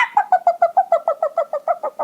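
Several voices imitate a chicken at a storytelling festival, giving about a dozen quick, evenly spaced clucking calls over two seconds, fairly loud and close with no other talk.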